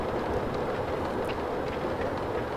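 A train in the MTA roleplay video game rumbles along in a steady, dense roar with no breaks, fairly loud and continuous.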